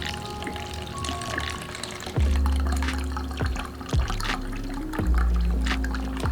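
About 16 ounces of Triple Sec orange liqueur pours from a bottle for red sangria, a close, continuous splashing stream broken by a few deep glugs, with no talking.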